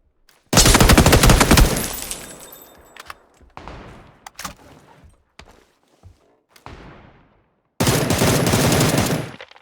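Automatic gunfire from PUBG: a loud long burst, then scattered single shots and short bursts, and another heavy burst near the end, with quiet gaps between.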